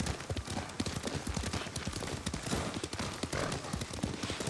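Horse hooves clip-clop at a steady riding pace in Ghost of Tsushima, the rapid dense beats running continuously under a loud bed of ambient noise.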